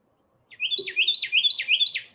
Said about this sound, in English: Oh no, it's a little finch thing.